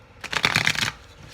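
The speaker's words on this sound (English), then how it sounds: "I had already pre-shuffled the cards, but you know I like to shuffle them" Tarot cards shuffled by hand at close range, a single quick riffling burst of papery flutter lasting well under a second, then quiet.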